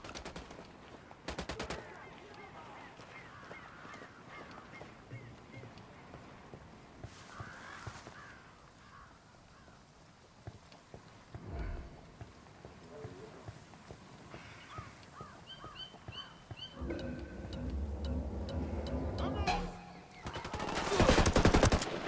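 Gunfire in the video game Ghost Recon Wildlands, scattered shots and bursts over a busy game soundscape, building to louder, denser firing toward the end.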